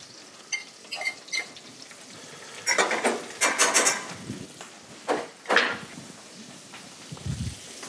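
Pigeon and horn of plenty mushrooms cook in butter in a pan, with soft sizzling and scattered clinks and scrapes of a utensil against the pan in uneven bursts.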